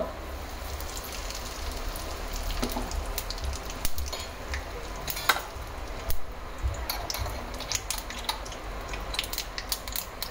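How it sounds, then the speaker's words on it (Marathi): Mustard seeds crackling in hot oil in a kadhai during tempering, a steady sizzle with scattered sharp pops and spits throughout, close and moderately loud. "आता या फोडणीमध्ये आपल्याला मोहरी घालायची. मोहरी तडतडली"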